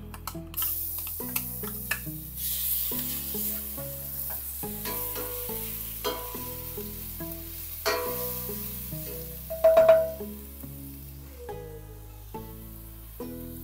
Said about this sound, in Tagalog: Magigisa lang tayo dito, no, ng bawang.